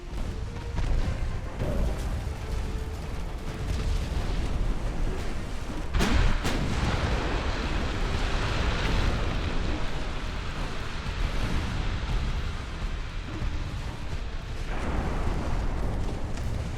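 Heavy naval gunfire and torpedo impacts rumble continuously in an 1890s-era warship battle in Ultimate Admiral: Dreadnoughts, with a sharp blast near the middle over a dense, sustained roar of explosions and sea noise.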